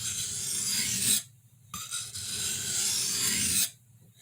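A Schrade Woodsman knife blade rasps across a sharpening stone in two long, steady strokes separated by a brief pause, close and fairly loud with no voices.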